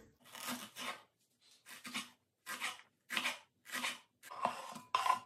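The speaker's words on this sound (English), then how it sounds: "I'll cut the eggs in thin slices. The onion in very thin slices." A knife slices hard-boiled eggs and onion thinly for a salad, six separate bursts of crisp cutting with short pauses between them, close by and with no voices.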